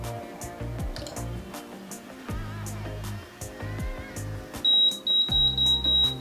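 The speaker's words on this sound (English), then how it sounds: "Just wait for those beeps, and then you can release" An Irresistible Me Moonstone steam hair curler on its highest setting gives a run of electronic beeps, repeated short tones in a steady pattern with a brief high whistle near the end, close and clear.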